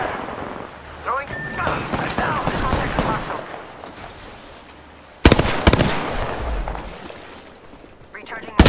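Gunfire in the video game Apex Legends, played ranked as Wattson on World's Edge, comes as dense, loud bursts of rapid shots with sharp cracks, mixed with game voice lines and a player talking over the action.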